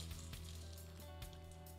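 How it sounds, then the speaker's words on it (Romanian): A sprig of rosemary frying in hot oil alongside fries gives a faint, steady crackling sizzle with small pops, heard alone and quietly. "Vreau să prăjesc și eu o crenguță de rozmarin."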